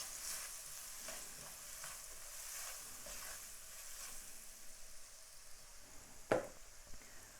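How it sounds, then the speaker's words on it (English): Onion and garlic being stirred in a sizzling pan for a curry aubergine dish, a steady frying hiss with soft scraping strokes and a sharper clack near the end, no voices. "I'm gonna give that a nice stir right there, stirring all of that onion"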